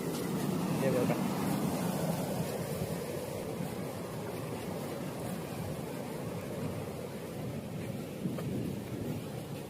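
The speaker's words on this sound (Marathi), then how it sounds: "ही आपली गिरणा नदी आहे" The Girna river flowing near a waterfall in the Surgana–Saputara hills: a steady, fairly loud broadband rush of moving water that runs continuously and evenly throughout, with no pause or clear voices.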